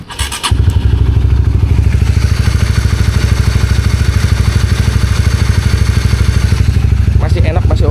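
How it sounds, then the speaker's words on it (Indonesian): A motorcycle engine idles steadily close by after a long trip across Borneo, a loud even throbbing pulse after a brief clatter at the start. "untuk suara mesin ya."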